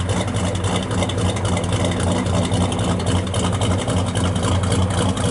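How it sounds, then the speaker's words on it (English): A 1968 Chevrolet Chevelle SS 396 V8 with an aftermarket cam idles with a deep, steady rumble, continuous and loud, with a throbbing, lopey exhaust pulse and no talking. "Sounds real good out of the exhaust."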